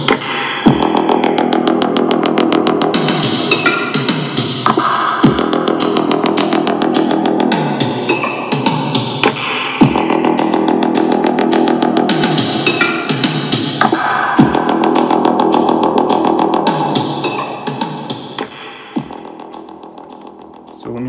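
Music plays at maximum volume from a MIFA A10 Bluetooth speaker, loud and continuous with a dense, distorted sound and sharp rhythmic hits throughout.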